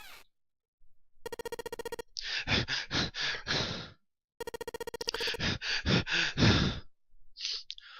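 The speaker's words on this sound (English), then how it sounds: "Then he began to hear his own breathing." Breathing in the video game 999: 9 Hours, 9 Persons, 9 Doors: a series of heavy, rhythmic breaths in two clusters, each preceded by a buzzing electronic tone, close and clear with silent gaps between.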